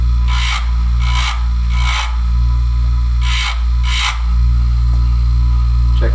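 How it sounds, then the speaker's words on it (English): A small ring filer squaring the cut ends of an engine piston ring, five distinct rasping grinding bursts at an uneven pace, loud and close over a constant motor drone. "Fire up my little ring filer."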